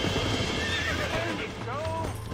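A horse in the Red Dead Redemption video game whinnies several times with rising and falling neighs while hooves clip-clop underneath, close and loud, and someone talks over part of it.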